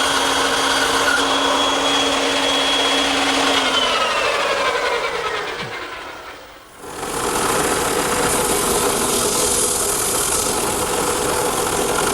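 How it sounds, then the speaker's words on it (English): A drum sander smooths the curved contour of a wooden standing mirror frame, giving a loud, steady whirring grind that drops away briefly midway and then resumes at full strength, with no talk. "The drum sander does a nice job smoothing out most of the contour."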